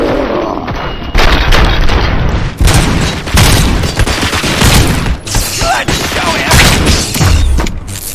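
Heavy gunfire in the video game RoboCop: Rogue City, with a loud, continuous mix of rapid shots, booming blasts and clanking mechanisms that surges and dips throughout, and a voice briefly audible in the mix.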